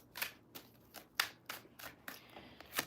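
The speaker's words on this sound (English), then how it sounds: "One more shuffle." Playing cards being shuffled for a tarot-style reading, a series of about eight quick papery riffles and snaps at a steady rhythm, close and fairly quiet, with no talking.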